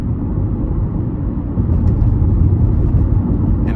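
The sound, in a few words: road noise inside 2004 Honda CR-V on rough industrial road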